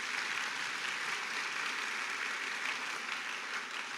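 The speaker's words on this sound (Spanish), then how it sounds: "dele un fuerte aplauso al Señor por eso" A church congregation claps together in a strong, steady round of applause, a continuous even wash of hand claps heard from within the room, with no speech over it.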